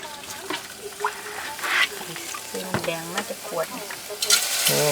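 June beetles roast and get stirred in a pot, giving a crackling, sizzling scrape with irregular bursts, while voices talk briefly over it.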